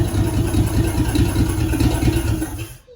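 A Ford flathead V8 in a 1952 Ford Customline Crown Victoria idles on open headers with a loud, steady, lumpy low rumble that fades and cuts off near the end.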